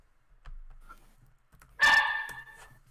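A dog indoors lets out a single sharp, loud bark after a quiet moment, close to the microphone, with faint background noise before it.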